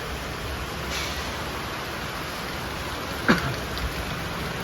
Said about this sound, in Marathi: फुल पाऊस आहे बघा